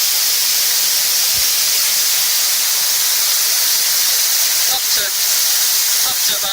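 Water jets hiss in a DIY micro hydro Turgo turbine running on three jets at about 18 psi. A loud, steady, broadband rush fills the whole stretch, with a few faint clicks near the end.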